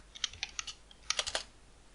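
Someone types a password on a computer keyboard: two quick, quiet bursts of light key clicks, close up, with no talking.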